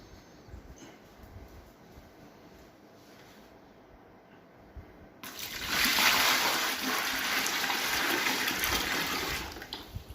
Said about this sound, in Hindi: मैं इसमें पानी डालता हूँ